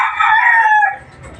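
A pet rooster crowing: one loud, close, drawn-out cock-a-doodle-doo lasting under a second, followed by a quiet low rustle of the flock.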